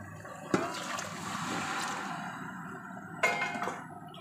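Rice-and-lentil soaking water splashes and gushes into a pressure cooker in a sudden burst, runs steadily, then a second pour starts; fairly quiet and close.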